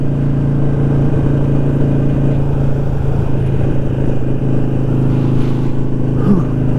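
Harley-Davidson Sportster motorcycle cruising along the Colonial Parkway, its steady engine drone and road noise running unbroken and close throughout, with a faint rider's voice briefly audible beneath it.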